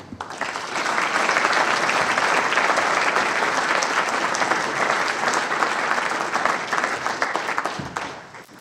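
An audience at a President's Dinner breaks into sustained applause to welcome a speaker, a dense, even wash of clapping that rises quickly, holds for several seconds and fades at the end.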